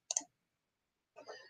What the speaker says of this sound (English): Clicking on that one end.